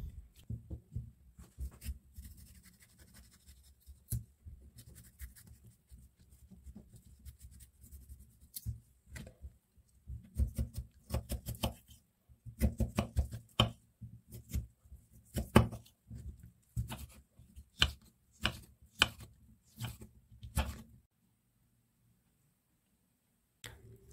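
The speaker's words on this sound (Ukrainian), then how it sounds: "Свіжий огірок нарізаю кубиками." A knife chops fresh cucumber into cubes on a cutting board in quick, irregular taps, sparse at first, then a denser burst of sharp cuts before stopping.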